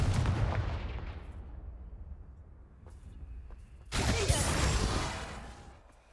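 Spell blasts from the Confringo fire spell in Hogwarts Legacy: an opening booming impact that tails off, then a second loud crackling explosion near the four-second mark, both in a fantasy action game setting without talk.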